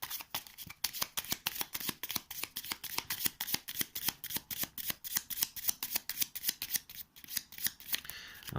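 A deck of game cards is shuffled close up in a rapid, even rhythm of crisp papery flicks that repeat steadily for several seconds, with no talking over them.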